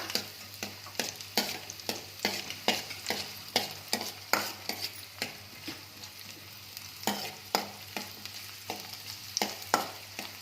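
Chopped onions sizzle steadily in a pan while a spoon or spatula scrapes and stirs them in frequent, regular strokes, close and clear with no talking.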